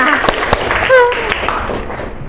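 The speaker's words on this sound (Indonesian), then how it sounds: "Beri tepuk tangan." Schoolchildren in a classroom clap for a group that answered correctly, a short burst of scattered, uneven hand claps with a teacher's voice speaking over them.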